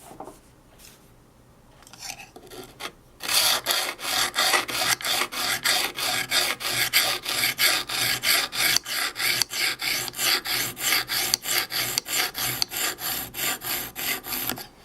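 A knife edge drawn across a sharpening stone in long, steady, repeated rasping strokes at a regular rhythm, close and clear with no talking, after a few quieter scrapes at the start.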